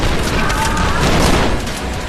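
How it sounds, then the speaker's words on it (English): Dense, loud bursts of gunfire and booms fill the scene in the first-person shooter Trepang2 played in VR, a continuous heavy barrage with a voice talking over it. "Where's that shooting coming from?"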